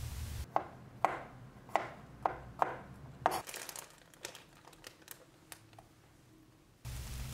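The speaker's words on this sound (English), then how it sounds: "Cut it into small pieces." A knife chops bacon into small pieces on a board, six or so sharp, evenly spaced knocks up close, followed by quicker, lighter cuts and rustling before the sound cuts off.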